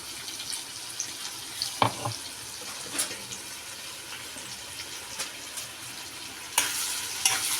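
A green paste of chili, ginger and coriander sautés in a pan for a dry chicken dish, giving a soft steady sizzle broken by occasional scrapes and clinks of a spoon.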